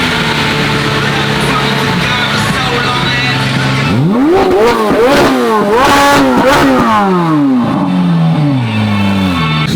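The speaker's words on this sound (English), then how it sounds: "People are revving it and stuff like that." Loud engine of a 750 hp Camaro ZL1 revs repeatedly, pitch climbing and dropping in several sharp bursts after a steady idle, close and dominant over crowd noise at a car show.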